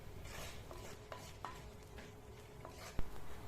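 Chili powder being stirred and roasted in a pan for a mackerel fish curry gives quiet, steady scraping broken by a few sharp spoon clicks, one louder near the end.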